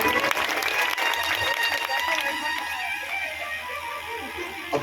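Audience clapping at a Shrimad Bhagavat Katha religious discourse in Jaipur, a dense wash of many hands applauding together, loud at first and gradually thinning out over a few seconds.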